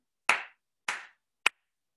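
Three sharp hand claps land at an even, unhurried pace for a classroom echo rhythm game, crisp and close with silence between them and no voices.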